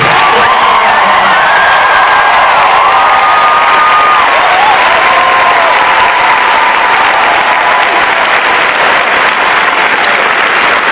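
A town hall crowd bursts into loud, sustained applause with cheering and whoops, dense and close throughout, with no pause and no talk.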